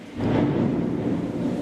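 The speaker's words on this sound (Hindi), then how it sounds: "बारिश आ रही है" Thunder rumbles in a deep, rolling burst that swells quickly and holds steady, with rain noise mixed in, during a chemistry lecture recorded indoors.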